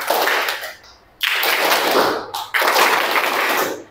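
A group claps on cue from a leader's hand signals, loud dense bursts of applause-like clapping in three blocks separated by short pauses.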